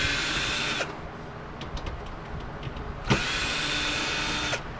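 A power screwdriver backs screws out of a satellite dish receiver being stripped for scrap, with two whirring bursts at the start and end, short clicks and handling noises between, close and moderately loud.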